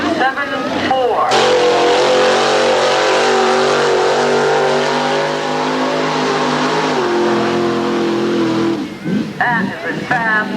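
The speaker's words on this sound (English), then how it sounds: "That is a fast truck." A truck races flat out through a muddy mud run course at the 1996 Cornstock 500, its engine roaring loud and steady for several seconds. Crowd voices and talk come briefly at the start and end.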